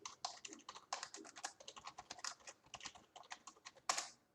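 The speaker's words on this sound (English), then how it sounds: "and then I can type the directory which I want" Typing a directory name on a computer keyboard at a command prompt: a quick, uneven run of close, crisp key clicks with short pauses and one louder tap near the end, with no talking.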